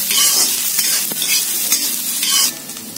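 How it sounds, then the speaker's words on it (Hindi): Chopped ginger, garlic and onion frying in a pan for Maharashtrian egg curry, a steady close sizzle with scraping stirs throughout and no talking. "अब हम डालेंगे कटा हुआ अदरक और ये लहसुन, लहसुन और अदरक को भी भूनेंगे प्याज के साथ।"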